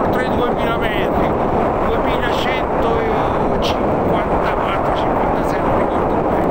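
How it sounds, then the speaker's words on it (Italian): Strong wind buffets the microphone with a constant, loud rushing roar on a mountain ridge above 2000 metres, while a voice talks faintly underneath. "sentite il vento"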